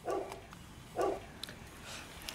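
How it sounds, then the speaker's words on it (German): A dog barks twice, about a second apart, at a moderate distance and fairly faint, with quiet indoor background and a few small clicks afterward. "hast du gerade den Hund geweckt?"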